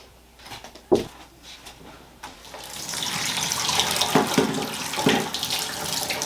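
Tap water running for a hair wash, starting after a few clicks and knocks and then flowing steadily and loudly into a basin, with no talk.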